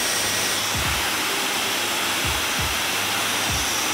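A hair dryer blows a continuous loud, close whoosh of air while styling a mustache, pointed upward at the ends, with a few low thumps of handling beneath the steady airflow.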